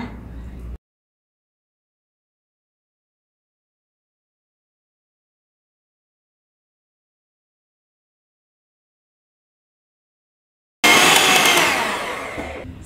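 An ordinary electric mixer kneads donut dough, a loud, steady motor whir heard in two short bursts: a brief one at the start and a longer one at the end, with silence in between.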